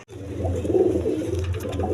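A pair of high-flying green pigeons kept at a farm coo in a low, steady, throaty stream, close by and continuous after a brief pause at the start.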